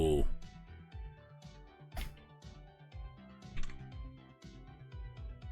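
Rapid, uneven clicking of computer keyboard keys close by, a run of sharp taps with short gaps and no one speaking.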